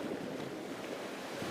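Sea waves surging near a tidal crossing between islands as strong wind buffets the microphone, with a steady roaring wash and no voices.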